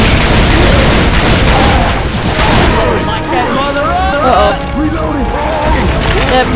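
Rapid gunfire and booming blasts in Left 4 Dead 2 while survivors fight a Tank, a dense loud barrage running throughout with music and voices talking over it.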